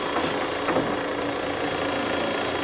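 A wood lathe spins steadily while Christmas tree ornament stems are turned down to a quarter inch, making a constant whirring, buzzing drone with faint tool chatter, and no voices.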